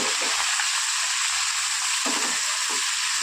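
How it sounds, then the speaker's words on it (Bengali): Malabar spinach stems and other vegetables sizzle steadily in a hot oiled pan, a loud constant hiss with a few soft stirring scrapes and no voices. "দিয়ে সবজিটা খুব ভালো করে ভেজে নেবো"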